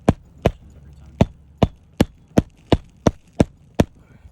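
About ten sharp hammer blows drive nails into wood in a steady, evenly spaced rhythm, each hit crisp and close, with quiet pauses between them.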